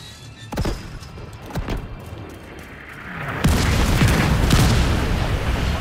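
Mortar fire from a mobile launcher in The Division 2: dull thumping booms and sharp impacts, a few separate hits early, then a dense rumbling barrage of explosions that keeps going, no talking.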